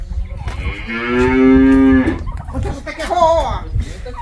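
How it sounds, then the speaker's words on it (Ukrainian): Two calves bellow in long, drawn-out moos, one loud call followed by a shorter one, close by with background noise. "То не корова, то телята ревуть"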